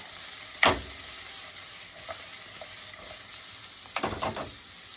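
Garlic and onion sautéing in a pan, a steady sizzle broken by two louder scrapes of stirring, one early and one near the end, with no voices.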